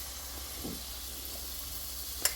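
Zucchini batter hits a hot 28 cm frying pan with a soft, steady sizzle and hiss, close and constant, ending in a brief sharp clink.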